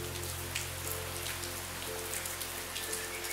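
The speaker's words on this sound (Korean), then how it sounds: "많이 오죠? 비가 내리고" Steady heavy rain falling outdoors in Jeju, a dense continuous hiss of drops pattering on surfaces with no break, alone and without voices over it.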